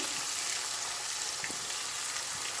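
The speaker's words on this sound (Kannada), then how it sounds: "ಚೆನ್ನಾಗಿ ಫ್ರೈ ಮಾಡ್ಕೋಬೇಕು ಕರಿ ಲೀವ್ಸು" Curry leaves, green chilli and vegetables fry in oil in a pan while vegetable upma is being made. A steady, close sizzle and crackle runs continuously with no talking.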